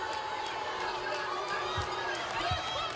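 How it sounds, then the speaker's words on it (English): Basketball fans at a high school girls' game between Pike and North Central in Indiana react to a referee's call, a steady gym crowd murmur with a couple of brief low thumps and scattered voices throughout. "Fans not liking that call"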